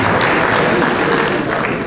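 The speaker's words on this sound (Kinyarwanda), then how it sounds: "kugira ngo twongere amashyi menshi cyane" Loud, sustained applause from a crowd at a priestly ordination ceremony in Ruhengeri Cathedral parish, a thick continuous patter of many hands with slight swells, no talking on top.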